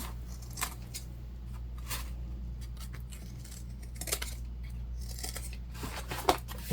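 Scissors trimming fabric at a sewing table, a few quiet snips and soft clicks spread across the stretch over a low steady background hum.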